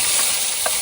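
Garlic stirred in a hot frying pan, cooked for ginataang laing, gives a brief close sizzle with a scraping stir.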